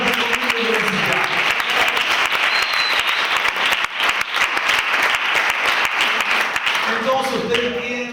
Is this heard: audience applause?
yes